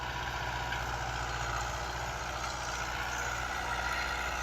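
A Fiat 640 tractor pulls a nine-blade plough through a Punjab field, its heavy diesel engine giving a continuous low, laboring drone at steady loudness with no break and no voices.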